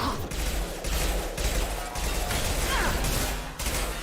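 Submachine gun bursts in the video game Mass Effect 2 come as several short, loud volleys of rapid shots separated by brief pauses, layered over game effects.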